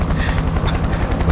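A helicopter in the video game Far Cry 4 gives a loud, continuous rotor drone with a steady low pulsing throb, heard alone for a brief moment.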